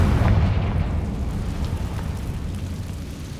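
A Confringo blasting curse explodes in Hogwarts Legacy, a loud, rumbling boom that hits at the start and then decays into a long, noisy roar, with no talking over it.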